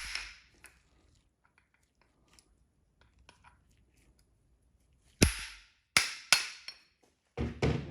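A 32 mm socket set on a bearing race is hammered to drive it out of a Corvette torque tube. A few quiet taps come first, then several loud, sharp metallic blows and a final ringing hit, close by and without talk.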